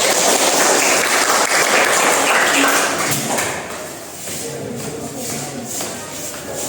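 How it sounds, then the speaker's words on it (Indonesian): Applause from an audience after a group presentation, dense clapping at first that thins and softens after a few seconds, with scattered voices and some shuffling. "Berikan tepuk tangan."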